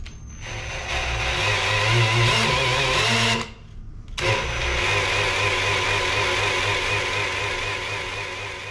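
A freshly built small-block V8 race engine in a Nova cranks over steadily with a whirring starter drone to build oil pressure, stops briefly, then cranks again for several seconds without catching.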